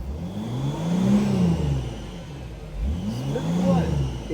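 A diesel engine in a Mercedes Sprinter van with no muffler and no particulate filter revs up twice, each rise swelling and falling back to idle, close and fairly subdued.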